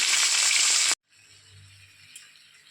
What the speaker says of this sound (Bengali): এবার দেখুন, মাছগুলো আমি এক এক করে ভেজে নেব।